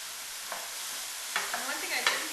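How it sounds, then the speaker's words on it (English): Asparagus and pea pods stir-frying in a home kitchen pan: a soft steady sizzle with a few spatula scrapes and clacks, more frequent toward the end, and no speech. "And then we're going to go ahead and add our pea pods."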